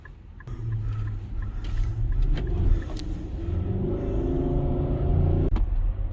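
A big vehicle glides along smoothly, giving a steady low engine and road rumble throughout with a few faint clicks, no talking.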